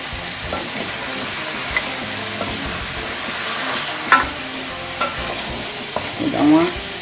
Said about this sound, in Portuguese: Vou dar uma mexidinha.